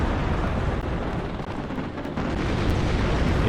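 Dense, continuous roar of rocket and cannon fire from a tank battle video game, a loud wall of rumbling blasts with no clear gaps and no talking.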